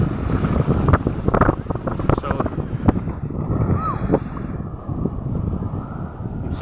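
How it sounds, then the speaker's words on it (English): Strong wind buffets the microphone on an open beach, a loud continuous roar with gusty low rumble and the sea in the background, while someone talks throughout. "Maybe you cannot hear me properly because of the wind."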